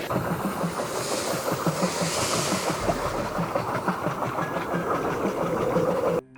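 A boat engine in a chase on the Thames, rendered as a sound effect, chugs in a loud, continuous rhythmic rumble that runs unbroken before cutting off abruptly.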